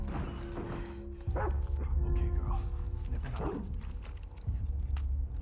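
Dogs barking in the video game The Last of Us Part II, several sharp barks and yips at moderate distance over tense ambient music and low rumble.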